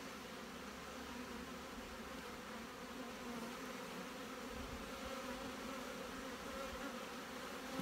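A dense, steady buzzing of many honey bees around an open hive fills the air continuously, close and loud, with no voices.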